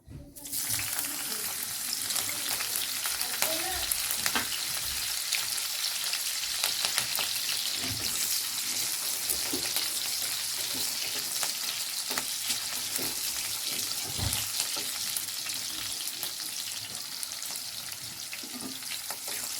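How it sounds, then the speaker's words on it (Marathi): Steady, dense sizzling of chilli slices frying in hot oil in a wok, continuous and close, with occasional faint clinks of stirring throughout. "मिरच्या चांगल्या प्रकारे फ्राय करून घ्यायच्या आहेत"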